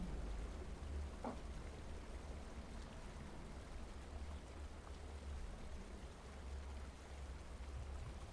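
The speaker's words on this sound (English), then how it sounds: "The waterfall flowing, again, with whatever force you can imagine" Steady broadband rush of a waterfall flowing with force, continuous and even throughout, with a low rumbling undertone and no voices.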